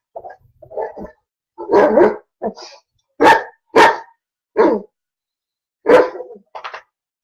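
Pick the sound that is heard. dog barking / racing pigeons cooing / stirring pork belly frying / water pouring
dog barking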